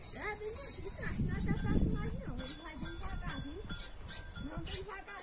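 A flock of sheep bleats in wavering calls on a cattle ranch in Brazil's northeastern sertão, with a cowbell clanking among them and people talking nearby.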